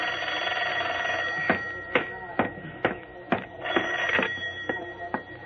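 A telephone in a radio drama rings with an electric bell, giving a run of irregular ringing bursts close by over a steady background hum.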